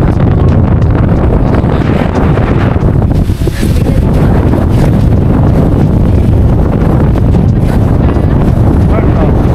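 Strong wind roars and buffets constantly, loud and close, with rumbling gusts filling the whole stretch, at Bolinao on the coast.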